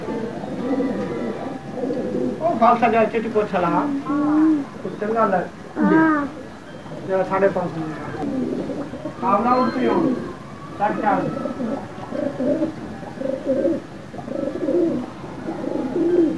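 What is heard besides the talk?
pigeons cooing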